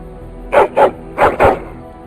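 A dog barks four times in Dragon Age: Origins, two quick pairs of sharp, close barks with a short pause between the pairs, standing clear of a low background hum.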